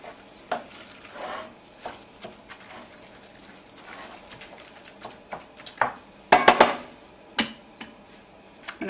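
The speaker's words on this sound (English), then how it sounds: "Butter is melting." Butter melting in a hot pan for a regular-crust pizza gives a soft sizzle, with scattered clinks and scrapes of a utensil and a louder clatter of cookware partway through.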